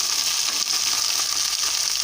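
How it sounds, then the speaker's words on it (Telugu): Okra (bendakaya) sizzles steadily in a hot pan, a dense, even crackle of frying with no voices over it. "బెండకాయలు 2 నిమిషాలు వేగాలి."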